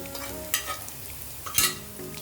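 A spoon stirs red chili powder, garlic paste and spices frying in a pan, with soft sizzling underneath and two distinct scraping strokes, all close and fairly quiet.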